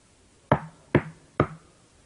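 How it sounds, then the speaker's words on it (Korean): Three sharp knocks on a gate, used as a sound effect in a story, come in an even rhythm about half a second apart, close and distinct against silence. "베드로는 대문을 두드렸습니다."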